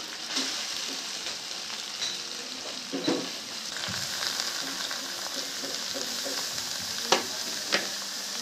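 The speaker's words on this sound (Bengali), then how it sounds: "নেড়ে নেব ভালো করে" Grated carrot fried in oil with a little turmeric, stirred steadily in a pan, giving a continuous close sizzle with scraping stirs and a few louder clinks, no talking.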